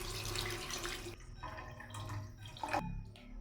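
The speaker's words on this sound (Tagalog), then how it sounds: "Yung ating pinagtanggalan ng ating hipon, lalagyan ko lang siya ng tubig." Water is poured into the pan the shrimp were just taken out of, while cooking shrimp sinigang. It comes as splashing and trickling bursts with short gaps, close by and fairly quiet.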